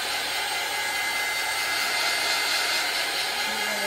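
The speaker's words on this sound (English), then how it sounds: "I am taking my heat gun and I'm drying the one I already did." A heat gun blows hot air to dry chalk paste on a craft transfer, making a loud, steady, even rushing whoosh that holds the same level throughout, with no voices.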